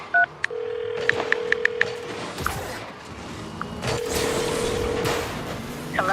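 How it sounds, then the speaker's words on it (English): A telephone number is dialed on a keypad, giving a quick run of short DTMF beeps. A dial tone comes in between, then a second steady tone follows, with line noise and clicks. "I'm going to dial her phone number right now."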